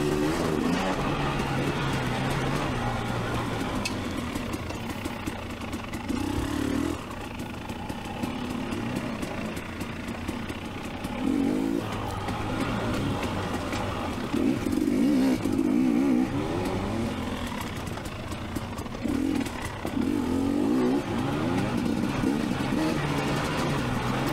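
A 2019 KTM 250xc dirt bike ridden on blue trails at an off-highway vehicle park, engine droning and surging continuously with repeated throttle rises and falls, a second rider following close behind.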